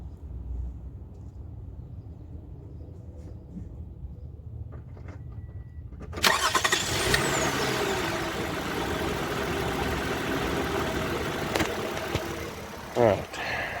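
A 2016 Toyota Sienna minivan is started, its engine catching abruptly after a quiet stretch with faint background noise, then settling into a steady, moderately loud idle that holds until the end.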